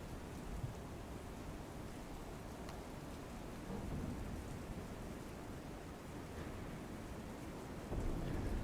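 Continuous early-morning rain hiss in Patan, Gujarat, fills the air, broad and even, with a low rumbling undertone and slight surges in intensity; no voices.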